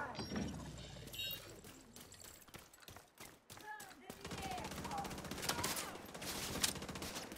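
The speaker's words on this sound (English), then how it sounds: "Okay, someone's shooting at us." Rapid bursts of automatic gunfire and scattered single shots in The Division 2 shooter game, loud and close, broken by brief pauses, with a voice talking faintly underneath.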